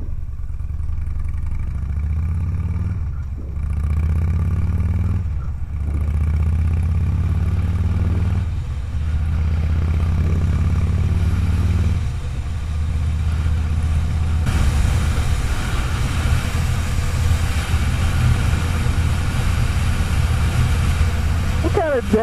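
A Harley motorcycle engine runs steadily with a deep, throbbing low drone that shifts in pitch as gears change without the clutch, while a rider talks over it.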